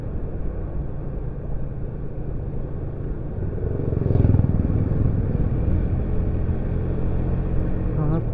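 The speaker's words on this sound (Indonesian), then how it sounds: "Harley Davidson motor kelas elit." A Harley-Davidson motorcycle rumbles along a road on a ride home from Sawarna and Karang Hawu toward Palabuhanratu, its low engine drone constant and close, swelling briefly louder midway amid wind noise.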